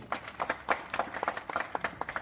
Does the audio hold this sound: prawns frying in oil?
no